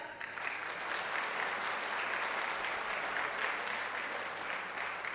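Sustained applause from a seminar audience at a business training camp, dense and steady clapping filling the room for the whole stretch without a break.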